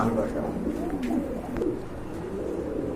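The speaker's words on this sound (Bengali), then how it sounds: "আরেক জোড়া সুন্দর কবুতর দেখতে পাচ্ছেন" Soft, continuous cooing from a pair of Bombay pigeons up close, low throaty warbles overlapping from more than one bird, with faint background noise.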